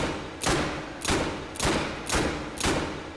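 Five heavy shots from a Chiappa Rhino revolver in a VR shooting game, evenly spaced about every half second, each a loud close thump with a short decaying tail.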